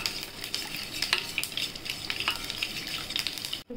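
Spice paste sautéing in a pan, a loud, continuous crackling sizzle with brisk stirring scrapes, close up, before it cuts off abruptly at the end.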